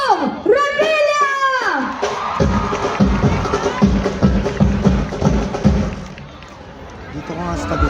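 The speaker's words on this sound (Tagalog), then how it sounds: "Malakas na hiyawan muli para kay Senador Pong Revilla!" A large rally crowd for Senator Bong Revilla roars and cheers, a loud, dense mass of shouting voices that swells and surges close by with an amplified voice rising over the start.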